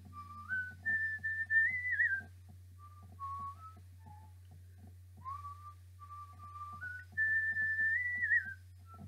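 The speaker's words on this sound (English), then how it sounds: "the farmer strolls down the lane, whistling" A farmer whistles a wandering melody while strolling down a lane at dawn, clear, fairly close tones in several phrases with short pauses, over a low steady hum.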